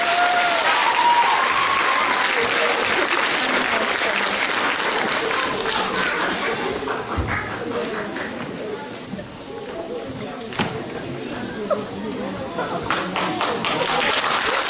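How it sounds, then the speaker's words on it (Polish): Sustained audience applause fills a hall at a hip-hop Christmas Eve show, dense and steady clapping from a large crowd with some cheering throughout. "Przywitajmy ich gorącymi brawami."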